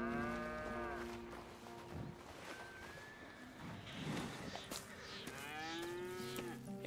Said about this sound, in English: All right, then. Here's the cows.